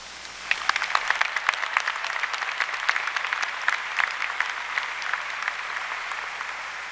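A large commencement crowd at Virginia Tech breaks into sustained applause, dense claps building quickly and holding steady at a moderate distance.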